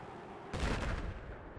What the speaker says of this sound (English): Oh, mortar.